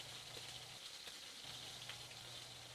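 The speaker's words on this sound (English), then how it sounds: "Garlic burns quickly, so we're only going to put it in the hot fat for about 15 or 20 seconds." Minced garlic sizzling in hot fat in a pan for seared scallops, a steady close frying hiss with soft crackle that runs unbroken and alone.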